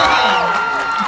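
Spectators at a Balinese bondres comedy show cheer and shout loudly, with excited voices and clapping merging into a dense, close wall of crowd noise.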